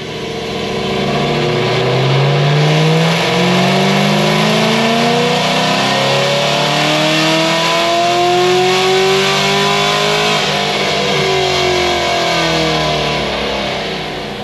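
A turbocharged car engine sweeps up and down through its revs on a dyno while running about 8 psi of boost on 91-octane fuel, a loud, continuous roar holding for the whole stretch with no talk.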